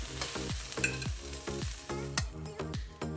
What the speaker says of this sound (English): we're just cooking these until our veggies soften into the skillet slightly